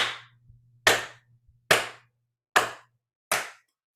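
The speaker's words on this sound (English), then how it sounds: "I'm going to go ahead and clap, and let's see how the microphone responds to reflections in the room." Five sharp, evenly spaced hand claps ring out in an untreated room, each with a short reflective decay, recorded through a Razer Kiyo Pro webcam microphone.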